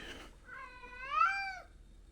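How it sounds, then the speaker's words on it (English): A cat gives one clear, drawn-out meow with a rising then falling pitch, close and fairly quiet in an otherwise still room. "That's my cat"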